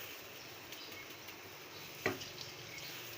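Onion pakoras dipped in gram flour batter sizzle steadily in hot oil with a constant bright hiss, and a brief spatter pops up about two seconds in.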